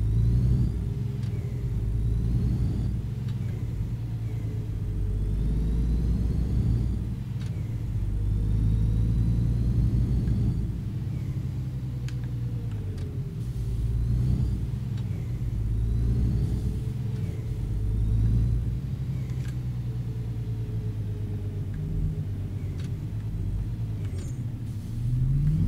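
A heavy truck engine in the On The Road truck simulation game drones steadily on the road toward Dortmund, a constant low rumble with slight revving swells, loud and continuous throughout.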